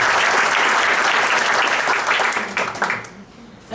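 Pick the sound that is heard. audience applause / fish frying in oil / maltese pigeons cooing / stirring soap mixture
audience applause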